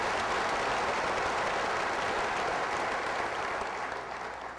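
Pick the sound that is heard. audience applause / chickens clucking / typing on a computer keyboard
audience applause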